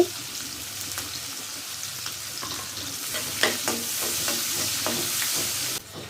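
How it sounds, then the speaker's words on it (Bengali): Onions and green chilies frying in a pan for a hilsa fish, potato and vegetable-stem curry, a steady close sizzle with repeated clinks and scrapes of stirring, no voices. "পেঁয়াজটার একটু ভাজা ভাজা করব আর সাথে আমি কাঁচামরিচ দিয়ে দিচ্ছি"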